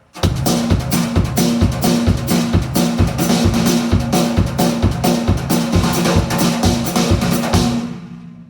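A steady, punchy drum beat of kick, snare and cymbals plays alone, broken up by quick fills, then ends with a ringing cymbal decay.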